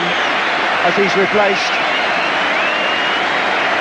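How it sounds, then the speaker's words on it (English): A Stamford Bridge crowd at a 1980/81 Chelsea league match applauds Chelsea's number 10, Clive Walker, as he is substituted; a steady, broad wash of distant clapping and roar fills the ground while someone commentator talks briefly over it. "So loud applause for the Chelsea number 10"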